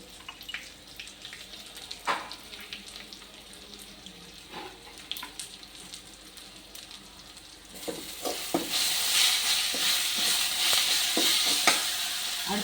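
Raw mango pieces sauté in a pan with turmeric and salt, scattered scraping stirs and light crackles at first, then a broader, louder sizzle builds and holds steadily toward the end.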